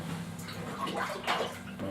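Washing soda being stirred into a container of water, with soft continuous swishing and sloshing nearby that swells briefly partway through.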